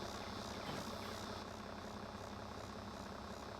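A tractor engine idles in a farming video game, a steady, even mid-to-low drone that holds unchanged throughout with no other sounds.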